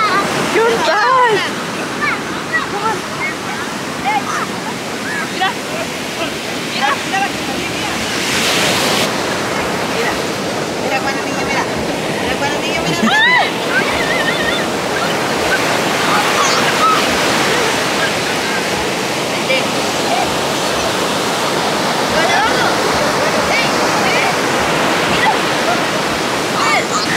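Ocean surf at a beach in Mexico rushes and washes continuously, a loud, steady roar of waves with voices talking over it at times.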